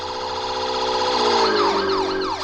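A loud vehicle siren wails as it passes close by, its pitch sliding noticeably lower as it moves away in a Doppler shift.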